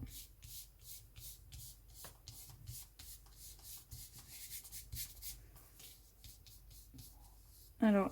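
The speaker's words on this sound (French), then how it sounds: "Avant qu'elle ne sèche, je frotte, je roule pour retirer le surplus qui est sur mon support" Paper napkin on a craft backing being rubbed and rolled by fingers to work off excess glue, a soft papery scuffing in short repeated strokes, close and quiet, with a sharper bump near the end.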